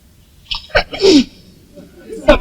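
A person sneezes once, loud and close, a sharp burst after a brief catch of breath, then a short vocal sound follows; quiet room otherwise.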